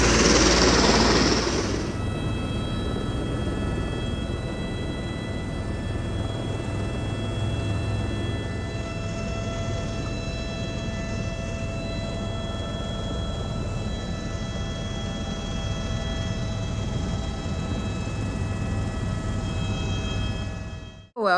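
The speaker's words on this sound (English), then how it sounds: "by now you know that I took him on a helicopter ride" Inside a helicopter flying over Niagara Falls, a steady droning hum carries faint sustained tonal whines, constant and fairly loud with no voices, ending abruptly.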